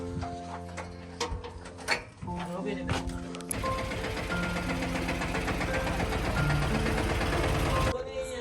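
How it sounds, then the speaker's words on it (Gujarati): A tractor engine's steady drone with a rumbling low end runs for most of the clip, overlaid with voices and some clattering, and it cuts off near the end. "હરેશભાઈ ટ્રેક્ટર રાખો"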